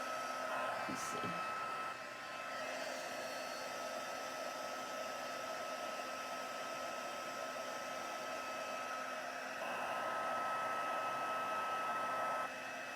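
Heat gun blowing hot air to melt embossing powder on cardstock, a steady close whooshing drone held for the full stretch with little change.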